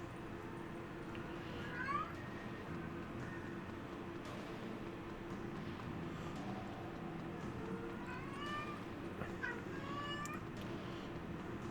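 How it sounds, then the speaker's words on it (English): A house cat meows loudly and repeatedly indoors, several drawn-out rising cries spread across the stretch over a low steady hum from a heater. "My cat is being loud right now."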